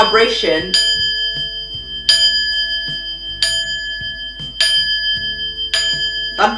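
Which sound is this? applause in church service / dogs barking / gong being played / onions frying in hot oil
gong being played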